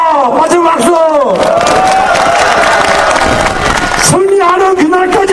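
A candlelight protest crowd applauds and cheers at a rally demanding accountability from Park Geun-hye; dense, continuous clapping and crowd noise fill the whole stretch beneath a loud amplified voice speaking over it.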